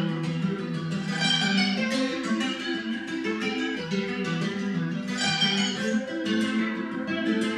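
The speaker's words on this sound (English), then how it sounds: "So like a really wavy detuned reverb." A Spanish-influenced guitar melody runs through the ROM plugin's Ghostly Resonant preset, turned fully up for a wavy, detuned reverb wash. The dense, shimmering tone plays without pause and without voices.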